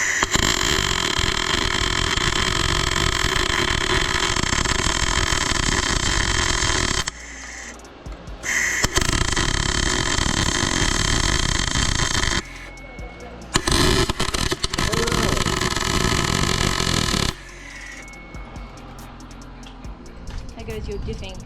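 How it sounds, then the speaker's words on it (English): Welding on a BMW differential, loud crackling sputter of arc welding running in long bursts separated by short pauses, with a person talking at times. "So I'm welding in this position mainly for cleaning"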